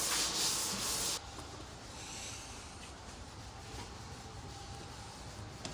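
Bare car paint on a front bumper being sanded, with faint, close scratchy rubbing, a louder burst at first and then softer, steady strokes with no talking.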